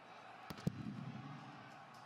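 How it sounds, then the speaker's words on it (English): Two sharp cannon blasts in quick succession boom over a crowd at the 2021 Montana State vs. South Dakota State FCS semifinal college football game, followed by a low crowd rumble. "The cannons go off"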